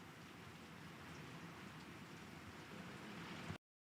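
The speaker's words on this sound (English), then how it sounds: "God, it's absolutely pouring the rain here in Donegal." Heavy rain pouring down in Donegal, a dense, steady wash of close hiss with no breaks that cuts off abruptly at the end.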